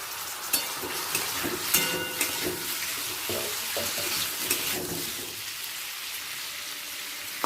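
Potatoes for aloo posto cook covered over a low flame, giving a gentle, even sizzle with faint irregular ticks and clicks that soften toward the end.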